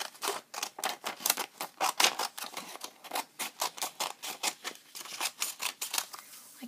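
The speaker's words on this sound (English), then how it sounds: "And take some scissors" Scissors snip through folded origami paper in a quick, steady run of about two dozen crisp, close cuts, with no talking.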